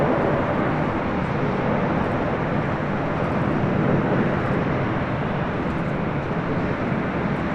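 A heavy Atlas Air cargo jet lands at LAX, arriving fast, its broad, steady engine roar loud and continuous throughout, with no talking.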